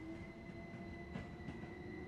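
A class 377/4 electric train in Train Sim World 2 pulls into Brighton station, giving a faint, steady rumble and rolling-wheel drone under a thin high whine, with no talk.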